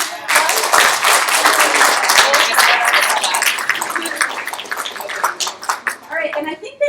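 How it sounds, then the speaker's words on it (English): A college audience breaks into a round of applause, loud and close at first, then fading into scattered claps as voices take over. "can we give him like a little round of applause?"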